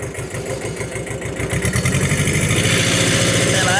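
A Kubota tractor engine idles steadily close by, its low rhythmic chugging thumping in an even pulse that grows slightly fuller and louder toward the end, with no talking over it.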